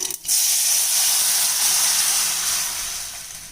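Rasam mixture hits hot oil tempering with curry leaves in a sudden burst, then a loud, steady sizzling hiss continues and slowly fades slightly.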